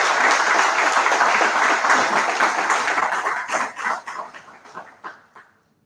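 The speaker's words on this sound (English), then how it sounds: "With a huge round of applause, please welcome Mr. Shivendra Gupta." Audience at an event gives a big round of applause: dense, loud clapping that thins into scattered individual claps and fades out near the end.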